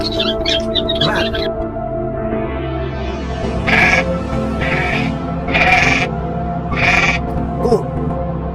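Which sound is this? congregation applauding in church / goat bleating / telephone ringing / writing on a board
goat bleating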